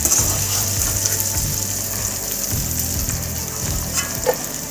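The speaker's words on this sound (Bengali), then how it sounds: "আলুটাকে একটু ভেজে নেব।" Potatoes fry in hot oil with a loud, continuous crackling sizzle heard up close, joined by a few light stirring scrapes and no voices.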